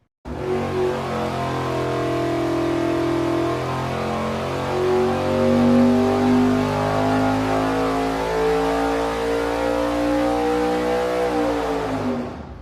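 A 582 cubic-inch big block Chevy V8 with a 1250 CFM carburetor roars on an engine dyno, its pitch climbing steadily through a long, loud sustained pull before cutting off abruptly at the end.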